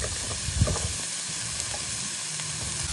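Onion and carrot fry in a hot pan for a Cambodian crispy rice pancake (banh chhev), giving a dense, even sizzling hiss with a few soft stirring knocks near the start and no voices.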